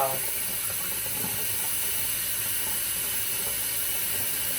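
Sea moss being rinsed under a running kitchen tap: a constant, close hiss of flowing water that stays even from start to finish, with no one talking.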